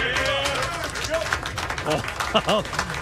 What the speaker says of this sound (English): kind of a measured applause there for Borregales there at the end